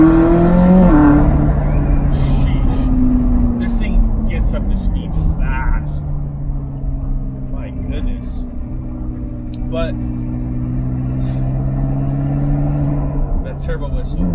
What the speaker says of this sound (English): turbo whistle